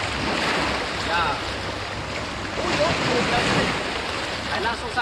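Big ocean waves break and wash up onto a beach, a loud continuous roar of surf and rushing water with wind buffeting the microphone throughout.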